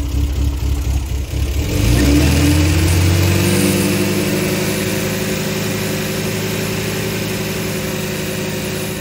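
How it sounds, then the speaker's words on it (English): An MGB car engine idles, then revs up and holds at a steady, louder pitch, close by and continuous. "If I rev the engine up a little bit, it should go up even faster"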